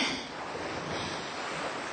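Ocean waves surge and wash continuously along a summer beach at dawn, a steady broadband roar with gentle swells in level, no voices present.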